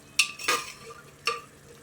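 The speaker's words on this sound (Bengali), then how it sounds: "এবার আমি যে কাবুলি ছোলা আর আলুটা সেদ্ধ করে রেখেছিলাম সেটা দিয়ে দিচ্ছি।" Three distinct metallic scrapes and clinks as boiled chickpeas and potato are spooned into a pan for chole, close and quiet with a faint background hum.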